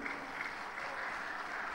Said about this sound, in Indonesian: Tepuk tangan kita bersama untuk Dewan Hakim.